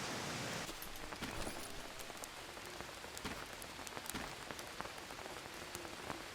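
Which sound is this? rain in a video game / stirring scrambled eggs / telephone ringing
rain in a video game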